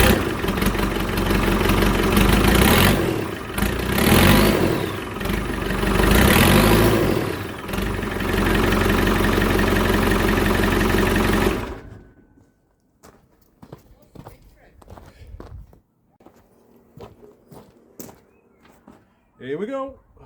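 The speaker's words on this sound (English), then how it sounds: "Let's get a sound of the straight pipe." Ferguson tractor fitted with a 300tdi diesel engine on a straight pipe exhaust, running loud and rough for about twelve seconds with surging revs, then cutting off to quieter footsteps and handling noises, with a voice briefly speaking.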